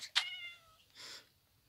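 A single short, clear Minecraft cat meow followed by a fainter second mew, quiet and synthetic-sounding, with no talking.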